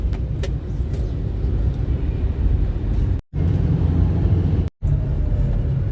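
An Isuzu Giga wing van truck rumbles past on the road, a loud low engine drone that holds steady for several seconds, broken by two brief dropouts.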